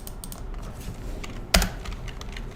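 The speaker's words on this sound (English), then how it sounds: "I'm used to typing the commands in because it's good practice" Keystrokes on a computer keyboard while commands are typed into TouchDesigner, soft continuous tapping with one sharper, louder keypress partway through, close and alone without talk.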